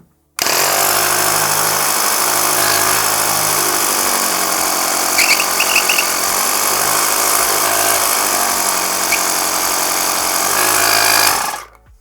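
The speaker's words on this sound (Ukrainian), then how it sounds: "Працює не надто гучно, але в той же час доволі непоганий потік повітря видає." An AMIO 02181 portable car air compressor powered from a cigarette lighter socket runs continuously with a loud, steady motor buzz and rattle for about eleven seconds, then switches off.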